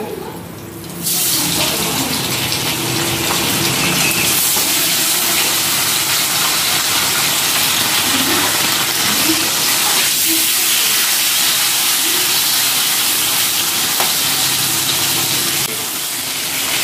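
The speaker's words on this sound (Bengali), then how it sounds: "এবার ওই তেলে আমি চিকেনটা একটু ভেজে নেব।" Chicken hits hot oil with a sudden loud hiss, then fries in a dense, steady sizzle that carries on unbroken.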